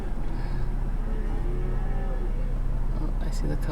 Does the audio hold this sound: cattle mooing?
yes